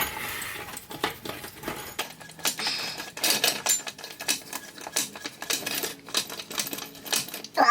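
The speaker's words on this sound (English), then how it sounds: "Oh, I'll use another wrench." A wrench ratchets and clinks against metal while working on the transaxle of a 1966 Double Cab, giving dense close clicking and tapping with a few metallic knocks.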